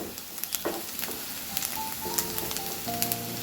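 Ginger and garlic sizzling steadily in a pan for paneer curry, a soft continuous frying hiss with light crackles and faint tonal beeps in the background.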